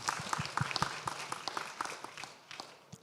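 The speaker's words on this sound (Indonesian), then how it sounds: "Kasih tepuk tangan dulu." Applause from an audience at the Indonesia Summit, a conference session: a brief burst of scattered, irregular hand claps at moderate distance, thinning out over a few seconds with some voices murmuring underneath.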